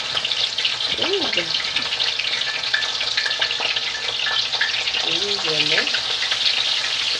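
Fish fries in hot oil with a loud, continuous sizzle and crackle, while a voice speaks briefly over it.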